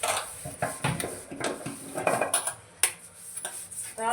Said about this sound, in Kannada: ಪಾತ್ರೆ ತೊಳಿಸ್ತಾ ಇದ್ದೀವಿ.